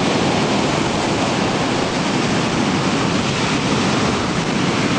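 Ocean surf at Centerville Beach roars in a continuous, loud wash of breaking waves and wind, with no talking.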